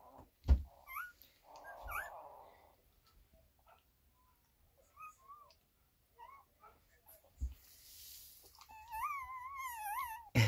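Three-day-old newborn standard poodle puppies cry in thin, high, wavering squeals, intermittent at first and then a sustained rising-and-falling wail near the end, with faint handling noises between.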